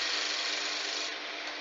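A roughing gouge cuts wood on a lathe while a candlestick is being turned, giving a steady, loud, continuous rasping hiss that eases slightly toward the end.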